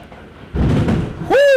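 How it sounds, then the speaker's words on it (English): Thunder from a lightning strike, a sudden close rumbling crack lasting under a second, followed at once by a voice exclaiming. "Did y'all hear that lightning?"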